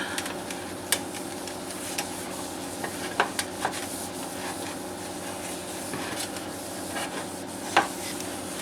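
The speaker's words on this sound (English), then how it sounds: "we're going to dab a little bit of oil in there, and she's going to rub that around" Oil being rubbed around a cast iron skillet, a steady soft scraping and rubbing with occasional faint clicks and taps of metal, close and low in level.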